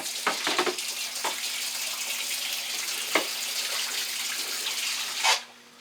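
Tap water runs steadily into a container, a continuous splashing rush with a few brief knocks and a louder gush near the end before it cuts off.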